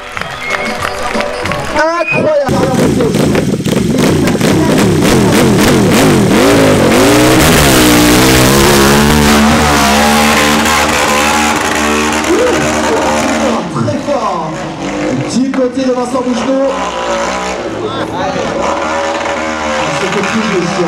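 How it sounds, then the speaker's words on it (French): An SFS 450 motorcycle engine revs hard and bogs on the final steep wall of the Arette hill climb, loud and close, with rising and falling throttle bursts under excited French commentary. "avec toute la puissance de sa machine, il va déposer, semble-t-il, dans le dernier mur, sa moto SFS, Stéphane Pirel."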